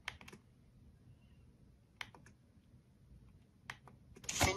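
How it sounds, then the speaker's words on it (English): Thumb keys on a BrailleNote Touch Plus braille notetaker pressed in quiet, sharp separate clicks: a few at the start, one near two seconds, a pair later and a louder cluster at the end. "we're going to use our thumb keys to move to the Internet and Wi-Fi menu"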